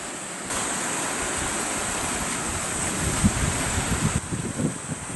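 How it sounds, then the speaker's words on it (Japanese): Wind gusting along the rocky Shimokita Peninsula coast on the Tsugaru Strait, a steady broad rush with buffeting on the microphone that grows rougher and gustier toward the end. "左から風が来ています。"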